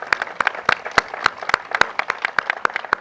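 Scattered clapping from a small audience after a book presentation, sharp individual claps at an uneven, sparse rhythm, close and fairly light, with no talking over it.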